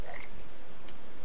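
Frogs croak as they are thrown in the video game Papo & Yo, a short pair of chirpy croaks over a steady ambient background.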